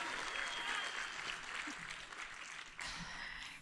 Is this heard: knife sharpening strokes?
no